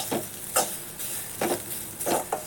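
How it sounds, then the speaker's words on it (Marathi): Grated coconut roasting in a pan, a soft steady sizzle with a few scraping stirs of a spatula against the metal at irregular intervals, close and fairly quiet with no talk. "हांगसर आतां सोय भाजताय पळय"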